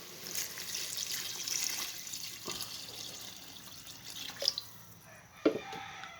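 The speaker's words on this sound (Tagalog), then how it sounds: "Kaya lalagyan na natin yan guys ng tubig." Water pours and drips into a cooking pot while making ginataang native chicken, a broadband splashing trickle running steadily with a few sharper drip splashes near the end, close and moderately quiet.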